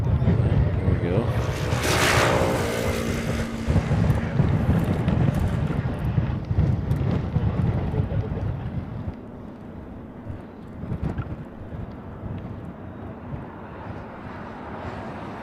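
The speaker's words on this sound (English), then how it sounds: "More of that wind." Strong gusts of wind buffet the microphone at an airport plane-spotting spot in Honolulu, a loud low rumble that fills the first nine seconds and then eases to a steadier, quieter blowing, with a voice speaking faintly underneath.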